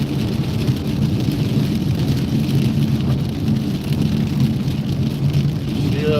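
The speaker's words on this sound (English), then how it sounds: "Down pretty good now." Heavy rain pours down steadily in a thunderstorm, a loud continuous roar of drops drumming on a surface with a deep low rumble underneath, no voices.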